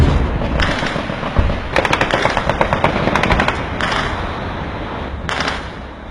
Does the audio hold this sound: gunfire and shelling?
yes